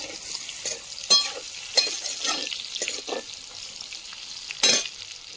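Eggplant slices seasoned with salt and turmeric sizzle in hot oil, with a steady frying hiss broken by several sharp, louder spatter bursts, and no talking.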